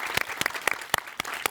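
A small audience gives a brief round of applause, a handful of sharp, separate claps spaced out over a second or so, fairly close and with no voices.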